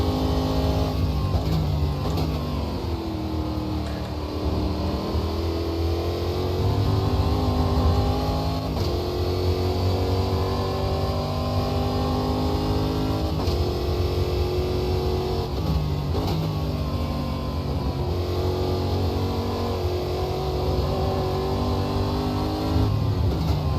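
A Stock Car Brasil race car engine in Automobilista 2 drones loud and close, revving up and down through gear changes and throttle lifts with a continuous harmonic roar, no voices.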